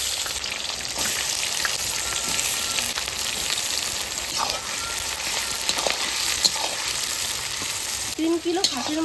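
Whole dried chillies, bay leaves, cardamom, cloves and cinnamon sizzle steadily in hot oil for mutton curry, a dense continuous crackle with occasional pops and a brief stir of a utensil near the end.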